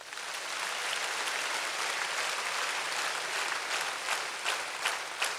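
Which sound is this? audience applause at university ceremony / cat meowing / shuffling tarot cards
audience applause at university ceremony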